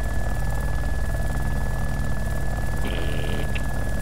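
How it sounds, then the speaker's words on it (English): Helicopter in the video game Arma Overpoch, a steady droning rotor hum that stays constant and fairly loud, with a brief higher whine partway through. "Oh, helicopter!"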